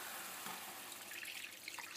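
Water is poured into a pan of lamb sauce, giving a faint, steady hiss and trickle that runs unbroken for a couple of seconds.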